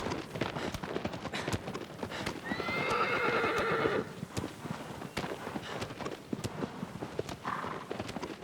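A horse in the Shadow of the Colossus remake game gallops with steady clip-clop hooves throughout and gives one loud, drawn-out neigh partway through, then a shorter whinny near the end.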